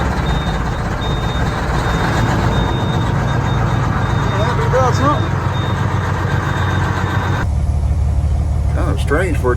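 An old pickup truck at a pasture site, acting as if its battery is dead, its engine cranking and running in a steady, close drone while a thin repeating beep sounds over it.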